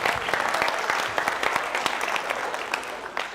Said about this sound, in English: yeah, let's applaud for that.